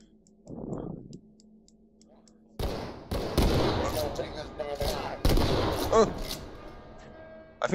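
Video game gunfire in a bounty hunting match: a short rumble and clicks, then a burst of sharp shots and rattling blasts that pile up loud and dense, with a few louder cracks standing out.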